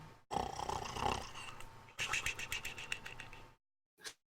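A voice imitates snoring during a Dungeons & Dragons tabletop game session: loud, rattling, throaty snore sounds in two long bursts, then a short pause and a few brief trailing noises.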